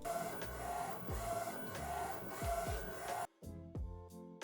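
A Procolored F13 DTF printer runs a shirt transfer job, its print head shuttling back and forth with a steady rhythmic whir and repeated mechanical clicks, close and fairly quiet, ending in a brief pause and a few softer motor movements.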